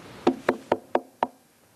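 Five evenly spaced knocks on a door, crisp and close, in a quick steady rhythm with nothing else around them; a voice imitates the knocking.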